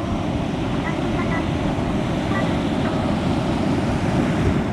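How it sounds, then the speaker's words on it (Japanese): Heavy surf surging against a rocky shore in southern Okinawa, a continuous loud, broadband roar with wind buffeting the microphone and no distinct break, steady and close throughout. "おおお俺の心を折る波だったな今のは"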